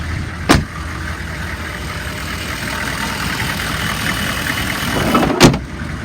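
A 2002 Chevy 3500 stake truck with a 6.5L diesel runs steadily at a low, rumbling idle, with sharp clunks near the start and end and a slight swell in loudness before the second one.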